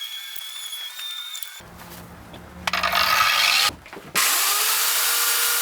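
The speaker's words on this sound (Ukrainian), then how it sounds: "Давайте зараз спробуємо 230 УШМ." A 230 mm angle grinder powered from a portable power station whines steadily, with rough bursts of grinding and a brief dip before it surges loudly again, close by.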